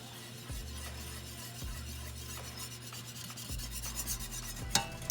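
A utensil mixes taco seasoning into browning mashed potatoes, making quiet, rhythmic scraping and rubbing strokes about once a second, close and soft, ending with a sharper clink.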